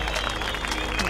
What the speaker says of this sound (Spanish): Un aplauso para todos los presentes, compañeros.